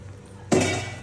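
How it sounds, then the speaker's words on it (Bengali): Raw rice is tipped into a pot over frying ginger and garlic, a sudden rushing clatter of grains striking metal that starts abruptly and then slowly trails off. "এখন আমি চালগুলো ঢেলে দিচ্ছি"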